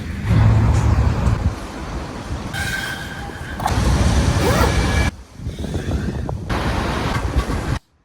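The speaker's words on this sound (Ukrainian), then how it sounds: "Це перше за всі дні, що сюди заїжджає сміттєвоз" A garbage truck drives into a residential yard, giving a loud, close roar of heavy engine and road noise that rises and falls, dips briefly, then returns before cutting off.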